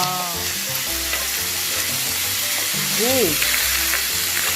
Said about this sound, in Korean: 이제 지글지글 올르고 있습니다